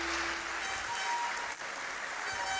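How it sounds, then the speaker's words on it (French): Sustained audience applause at an opening ceremony, a dense even wash of clapping from many hands with no voices. "On l'applaudit encore bien fort, s'il vous plaît."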